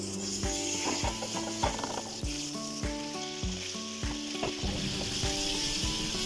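Shrimp sizzles in about a tablespoon of olive oil in a pan, with a steady close hiss and a run of mechanical clicking or rattling layered on top. No one speaks.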